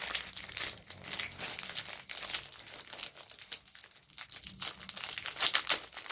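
Crinkly plastic packaging being crumpled and torn open up close, a steady run of sharp rustling and ripping with no talking.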